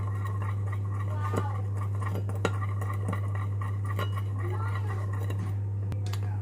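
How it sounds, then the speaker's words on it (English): A spoon stirs sugar into hot water inside a glass while lemonade is being made, giving soft scattered clinks and scraping against a steady low hum, with one sharper tap near the middle. "So we're going to add some hot water just to dissolve the sugar. I'm just going to mix this in."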